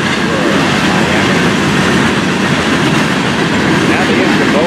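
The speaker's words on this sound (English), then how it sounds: "Now let's take a look at this train." Florida East Coast railway train cars rolling past at close range, a loud continuous roar with rail rumble and faint clatter, steady throughout.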